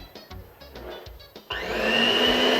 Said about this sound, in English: then I'm going to go in with the hand mixer